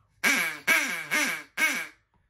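A duck call blown by a hunter gives four loud, raspy quacks in steady succession, each dropping in pitch, close and alone with no voices.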